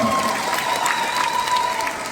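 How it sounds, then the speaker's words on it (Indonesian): Crowd applause fills a sports hall at a PKS Bogor halal bihalal gathering, a dense, steady wash of clapping with a few faint voices mixed in throughout. "Tepuk tangan untuk PKS"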